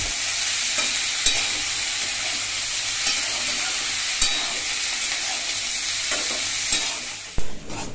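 Potatoes and cauliflower fry in a pan with a steady bright sizzle throughout, broken by a few sharp clicks of a stirring utensil and a louder clatter near the end.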